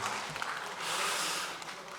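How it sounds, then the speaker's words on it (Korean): Lawmakers in the National Assembly chamber clap together in a steady patter of many hands. The applause is faint and distant and swells slightly partway through. "박수 쳐주십시오"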